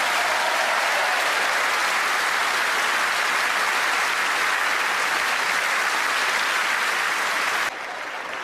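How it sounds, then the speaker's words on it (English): A live comedy-show audience applauds loudly and steadily for about eight seconds, a dense wash of clapping that cuts off abruptly near the end. "A big round of applause."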